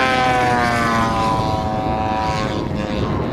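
A large, roughly 27-pound RC aerobatic model airplane flying overhead, its propeller engine droning loudly with a falling pitch as it passes and recedes, no talk.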